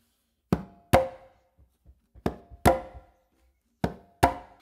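Conga pattern played by hand: pairs of sharp strokes, a bass tone with the non-dominant hand followed by a close slap with the dominant hand, repeated three times with soft finger taps between, close and dry with no talking.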